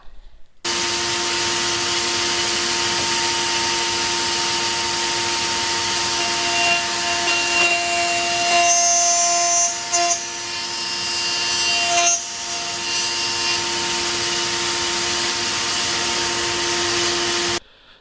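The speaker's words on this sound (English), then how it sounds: "Then we're going to raise our router bit up to 1/4 of an inch." A router bit cuts a quarter-inch groove into wood for a wooden whistle on an Incra fence setup, a loud steady high whine running about seventeen seconds with brief dips as the cut proceeds.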